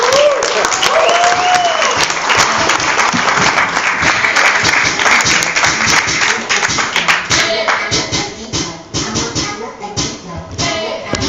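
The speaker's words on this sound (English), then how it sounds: "A round of applause for my good friend, Leslie Battle." A crowd at a live anniversary show at Crosskeys claps and cheers loudly and continuously, with a voice calling out early and the applause thinning and fluttering toward the end.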